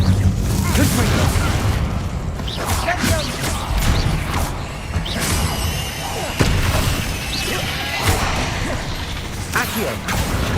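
Spell blasts from Confringo and Incendio in the Hogwarts Legacy video game: repeated booms, whooshes and crackling bursts that overlap continuously at close range and high volume, with game sound effects and music behind them.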